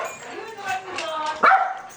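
Dogs give a few short yips and barks, fairly quiet, with a sharper bark near the end, mixed with talking.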